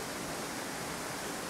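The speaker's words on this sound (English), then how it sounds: "But what a beautiful waterfall." A waterfall rushes in a steady, full roar of broadband water noise, close and constant with no voices.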